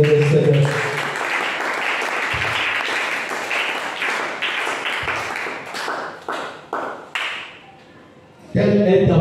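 A church congregation at an evening intercession service applauds in a dense, sustained wash of clapping that rises and falls in loud bursts, thins out near the end, then swells again.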